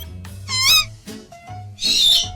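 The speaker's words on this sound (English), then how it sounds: "It's an owl." Owl calls, two loud close hoots with a whistling, wavering quality separated by brief pauses.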